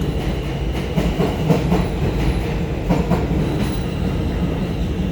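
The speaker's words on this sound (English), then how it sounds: "Train on the near track, train on the far track." F trains rumble past on both tracks at Roosevelt Island subway station, steady with clattering wheels and faint metallic squeals, loud and continuous, no voices.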